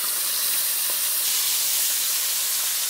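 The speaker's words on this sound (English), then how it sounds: "what you're looking at here is a skillet where I am cooking some brisket" Beef brisket sears in a skillet on a stovetop, giving a steady, loud, close hiss of sizzling fat that holds without pause throughout.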